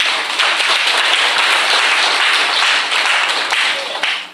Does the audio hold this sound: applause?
yes